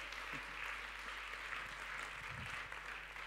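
Congregation at a sermon clapping together, a faint, steady patter of hands heard from a distance over a low hum, with a few scattered voices.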